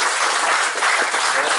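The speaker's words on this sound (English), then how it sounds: "applause" A big round of applause at a Laser sailing regatta prize-giving at a yacht club, dense and steady clapping from a crowd for under two seconds.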